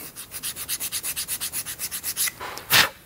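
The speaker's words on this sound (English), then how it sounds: "you can take the small palm spacer we have here, and you can trim it down" A small palm spacer is trimmed by hand, giving a quick, even run of rubbing, rasping strokes with a final louder scrape, close up and with no talking.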